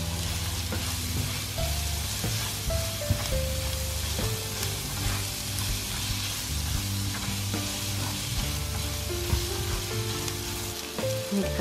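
Chili frying in a pan for sweet-spicy butter soy sauce chicken, sizzling steadily and loud throughout with no talk, backed by a constant low hum.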